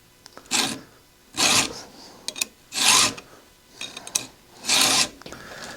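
A round file rasps across the teeth of a Stihl 026 chainsaw chain in four long, even strokes with short pauses between, close and clear with no talking.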